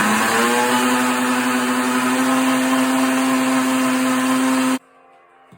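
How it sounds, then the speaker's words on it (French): Blender whirring loudly at maximum power as it mixes liposomal vitamin C, a steady high-pitched roar that cuts off abruptly near the end, followed by a single spoken word. "je l'ai remis dans le blender. Et vous mettez 45 secondes à puissance maximale."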